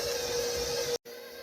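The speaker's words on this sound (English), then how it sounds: "we'll use our mixer and we will get going" An electric hand mixer whirs steadily through cookie batter with an egg, a close continuous motor drone that cuts out abruptly for an instant before resuming.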